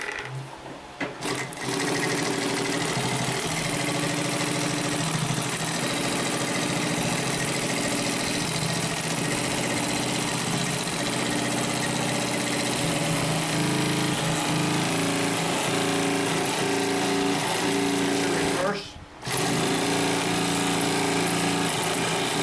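A Consew P1541S-CC industrial walking-foot sewing machine stitching over thick layers and seams, running loud and steady with a fast mechanical hum and rhythmic needle clatter, pausing briefly near the end before resuming.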